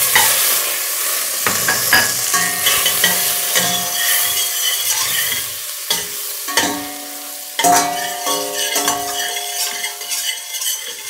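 Butter melting and sizzling in a large pot while it is stirred, with scraping and clinks of a utensil against the metal and a steady fry hiss, close and loud.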